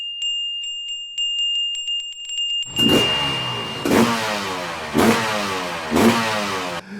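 A series of high electronic beeps gives way to a revving turbocharged Kawasaki two-stroke motorcycle engine, rising and falling in four repeated surges, loud and fairly close.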